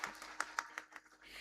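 A few audience members at a Marathi kirtan clap in a sparse, uneven burst, about half a dozen distinct claps at a soft level with faint background murmur.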